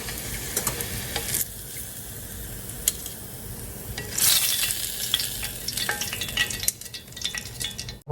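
Pork chops fry in hot oil in a skillet, two at a time, cooked crispy without breadcrumbs: a steady, close sizzle with scattered pops and crackles, briefly louder midway, with no talk.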